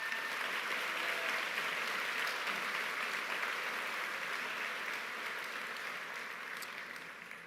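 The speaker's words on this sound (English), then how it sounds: "Students, I ask that you give the faculty and staff of Region 15 a round of applause." Students at the Pomperaug High School 2024 commencement give a round of applause for the Region 15 faculty and staff, a broad, sustained wash of clapping from a large crowd that holds steady, then slowly fades near the end.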